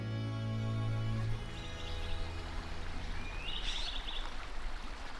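Mariposa Creek in Mariposa County flowing steadily, a soft continuous trickle and babble with a low hum fading early and a few distant bird chirps.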